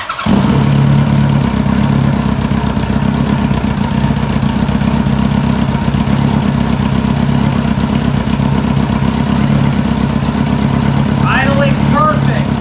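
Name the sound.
Kawasaki ZX-11 motorcycle engine starting and idling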